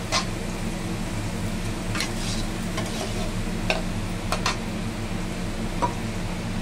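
Cut potato fries in a pan until browned for a jackfruit-seed vegetable dish, a steady sizzle under a low hum with sharp scraping clicks of a spatula at irregular intervals.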